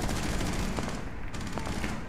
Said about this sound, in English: Can I shoot to the floor? I can.